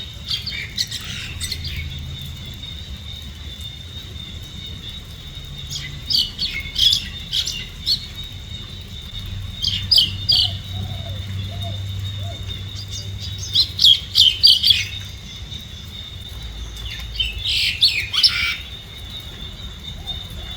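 Birds squawking and chirping in the rain in southern Thailand, several bursts of shrill calls in loose clusters over a low, steady rumble of rain and ambient noise.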